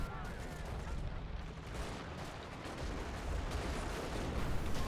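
Dense, continuous gunfire and distant booms rumble through a WWII video game battle, with machine gun fire mixed into a steady wash of combat noise that never lets up.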